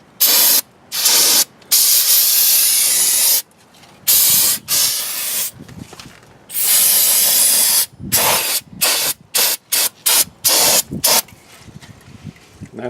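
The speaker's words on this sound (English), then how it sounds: "here's my brake cleaner. I'm just gonna soak all this down with it, catch it in a towel so it doesn't get all over my driveway" Brake cleaner sprayed from an aerosol can to soak down drum brake parts in a driveway: loud, close hissing bursts of varying length, some long continuous blasts and others short rapid squirts, with brief pauses between.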